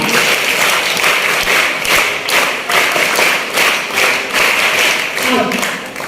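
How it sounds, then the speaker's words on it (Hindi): Audience applause at a school Hindi Diwas (Hindi Day) 2023 event, a dense, steady patter of many hands clapping that fills the whole stretch, loud and close. "तो उसके लिए भी जोरदार तालियां।"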